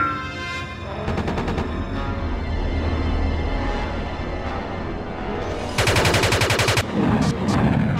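Rapid machine-gun fire in the Superman: Shadow of Apokolips video game, a steady loud stream of shots over a droning backdrop, ending in sharper, louder bursts of fast repeating rounds.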